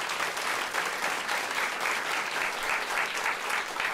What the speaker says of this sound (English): who just got the first sustained applause for an answer in the Greene Space today, is Rutgers professor Brittany Cooper.